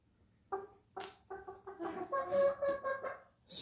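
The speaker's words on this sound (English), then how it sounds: "Stormy is being quite verbose today with his little clucks." A pet chicken named Stormy makes a run of short clucks and soft chattering calls, close and moderately loud, rising into a longer warbling phrase.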